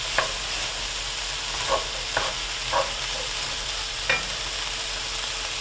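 Vegetables and cooked potatoes are being stirred in oil in a cocotte pot, with a steady background sizzle and a few soft, separate scraping strokes spaced irregularly over several seconds.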